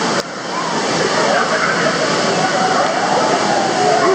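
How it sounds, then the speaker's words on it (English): Artificial waves surge through the indoor wave pool at Great Wolf Lodge, a continuous rushing, sloshing wash that builds and fills the space, with excited voices mixed in. "Here come the waves."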